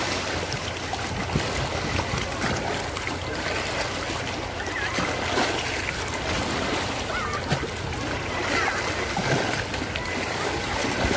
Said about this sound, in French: Les vagues qui tapent sur les rochers.